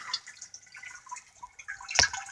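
Overflow water from a rain barrel drains out of a pipe, a soft continuous trickle and splash with a brief louder gush near the end, fairly quiet and close.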